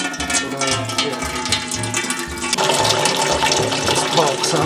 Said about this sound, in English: Take your pot, get water in it.